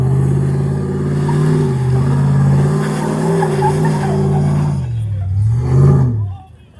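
An off-road vehicle on a desert dirt trail holds a loud, steady engine roar that climbs in pitch under throttle, then dips and surges briefly before dropping away at the end.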